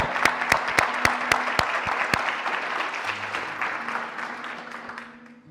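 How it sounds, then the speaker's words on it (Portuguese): Audience applause during a Portuguese-language sermon, a dense crowd clapping with a few sharp claps standing out near the microphone, steady before slowly fading out toward the end. "Agora vocês não aplaudem, né? Eu vou aplaudir também."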